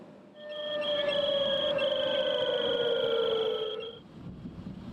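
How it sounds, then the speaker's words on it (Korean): A steady, droning civil defense air raid siren wails across city streets during a nationwide air raid drill, holding one long tone for several seconds before fading, with a faint outdoor hiss beneath. "오후 2시가 되자 거리에 사이렌 소리가 울려 퍼집니다"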